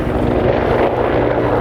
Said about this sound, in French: Des hélicoptères chez nous, on est à côté de la base.